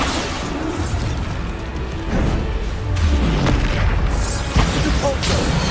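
Bombarda spell explosions from Hogwarts Legacy boom loudly and densely, with heavy rumbling blasts, whooshes and crashes layered into a continuous roar of combat.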